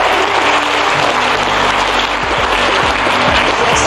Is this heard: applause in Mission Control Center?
yes